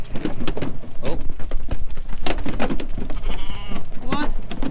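Sheep bleat repeatedly and close by as they are let out of a trailer into a field, several overlapping calls mixed with clattering and pattering, and a person talks briefly between them.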